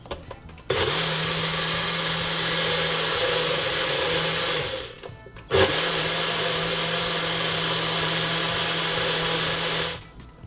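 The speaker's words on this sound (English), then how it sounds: "Put it in the blender one more time." A blender runs in two long bursts of steady whirring, stopping briefly between them; loud and close, with no talking.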